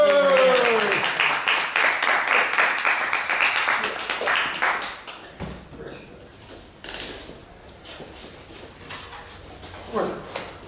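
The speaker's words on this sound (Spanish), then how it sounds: "¡Un aplauso!" A small audience at a film forum gives a short round of applause for a guest critic, clapping loud at first then thinning out, followed by voices talking over scattered sounds.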